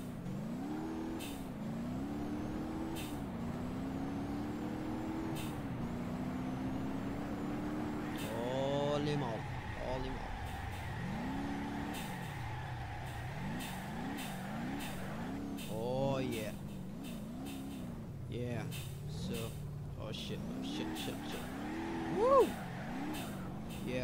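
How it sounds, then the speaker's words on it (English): Supercharged car drifting in BeamNG.drive: a steady engine drone with pitch rising and falling as the throttle works through slides, under speech, with occasional sharper transient clicks and a brief squeal near the end. "I'm gonna drift with it and show you how it drifts"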